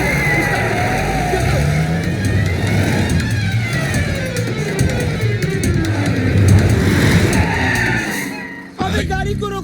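A car jump-started and driven off in a comedy film scene, engine revving and roaring with tyre noise and rising pitch, loud and close, then a sudden cut to a quieter engine; voices shout over it.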